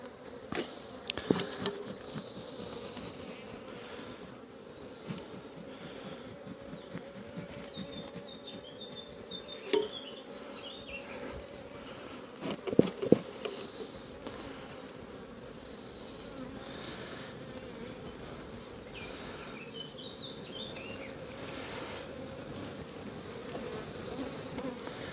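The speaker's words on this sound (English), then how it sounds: "Bee right near my ear hole trying to sting me." Dense, steady hum of honey bees swarming an open hive full of brood during a box swap, loud and close throughout, with a few sharp knocks of hive equipment.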